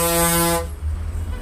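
A loud, blaring vehicle horn, likely from a bus or truck, sounds once in heavy festival traffic near Veerappur temple, then cuts off, leaving low engine rumble and road noise.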